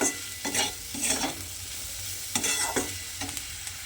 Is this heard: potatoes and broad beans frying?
yes